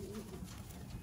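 A racing pigeon coos softly in a loft, one brief low call over a steady background hum, with no talk.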